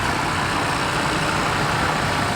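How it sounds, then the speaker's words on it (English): Garbanzo bean harvesting machinery running in a Palouse chickpea field, a loud, steady engine drone heard close up from the machine with no pauses and no talking. "You can hear the machine and the equipment running."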